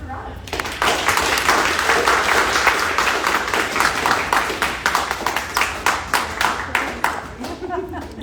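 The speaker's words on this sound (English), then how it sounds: "please give a round of applause for Jennifer Rugge" An audience at an artist lecture breaks into applause, a dense, loud burst of many hands clapping that rises quickly, holds, then thins into scattered claps over about eight seconds.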